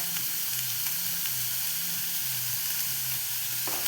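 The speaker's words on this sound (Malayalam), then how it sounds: "ഇനി സവോള നന്നായിട്ടൊന്ന് വാടി വരുന്നിടം വരെ ഇളക്കി കൊടുക്കണം" Sliced onions with a little salt frying in a pan, a steady close sizzle with soft scraping strokes as they are stirred until softened, no talk.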